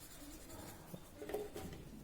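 A paper stump smudging a pencil drawing of a face, a very faint soft rubbing and scratching on paper, close and quiet with small irregular strokes.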